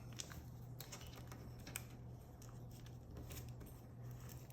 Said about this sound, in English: Creasing nice and tight